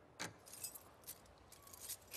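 Keys jangle in The Last of Us Part II, a faint metallic clinking in a few quick bursts against a quiet backdrop, with no voices.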